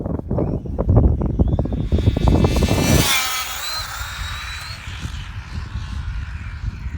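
A Traxxas Slash short course RC car makes a high-speed run toward 100 mph. Its motor whines loudly and rises in pitch as it rushes close past, then fades away under wind noise.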